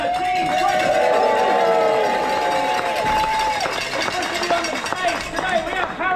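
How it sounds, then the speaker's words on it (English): Crowd at a Tour of Britain stage start in Atherstone cheering and whistling loudly and continuously, with a sustained whistle-like tone early on and people chattering throughout. "please make some noise for Annie Connor, Team 20!"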